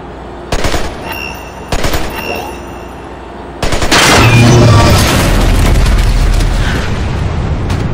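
Bursts of gunfire from Splinter Cell Conviction on Xbox 360, two short sharp volleys followed by a long, loud sustained barrage of booming shots and rumbling blasts.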